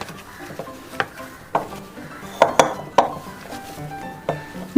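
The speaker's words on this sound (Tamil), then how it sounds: "இப்போ இது எல்லாத்தையுமே நல்லா மிக்ஸ் பண்ணிக்கலாம்." Irregular clinks and knocks of a utensil against a bowl as thick rice flour dough is stirred and mixed, with no talking.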